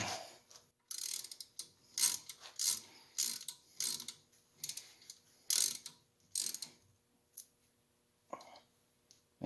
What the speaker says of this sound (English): I'm just tightening those until they're snug